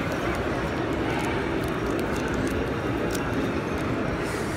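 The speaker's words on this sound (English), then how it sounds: "There goes the train." A train rumbles past close by, a loud, steady roar of wheels and engine that holds level throughout.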